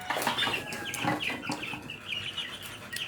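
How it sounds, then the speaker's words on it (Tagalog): Several chickens cluck and squawk close by in quick, overlapping bursts, with sharp calls standing out against a busy farmyard background. "ang daghang manok"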